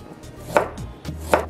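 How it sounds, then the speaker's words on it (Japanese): A knife slices through a purple carrot on a cutting board in a kitchen, giving two sharp crisp cuts with quieter board taps between them, close and clear with no talking. "このまま、スライスしていきます。"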